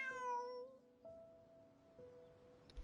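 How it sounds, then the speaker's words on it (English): Cat meowing in the game Genshin Impact: one clear, close meow followed by two softer, shorter mews about a second apart, alone without talk. "Bonnie is Pierre's cat"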